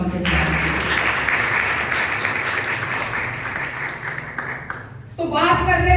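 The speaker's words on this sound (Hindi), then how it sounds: "तो आज जोरदार तालियां खुदा के साथ।" Loud audience applause fills a sermon hall, a dense steady roar of many clapping hands that stops abruptly near the end, when a voice begins speaking.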